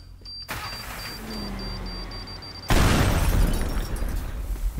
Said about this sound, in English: That bomb nearly killed us